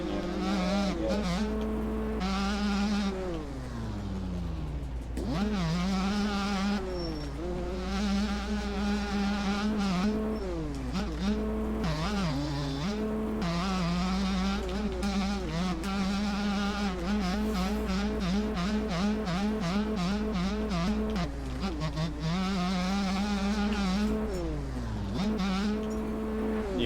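A motocross bike rips around a dirt practice track, its engine climbing and dropping through revs with sharp throttle blips and repeated rising whines as it shifts, loud and close throughout, with no one speaking.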